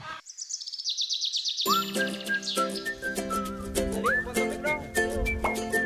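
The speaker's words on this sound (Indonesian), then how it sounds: "Wih, burung makaunya pada terbang." Flock of macaw parrots, hook-billed birds living in groups, gives a continuous run of shrill calls and whistles, fairly close and loud.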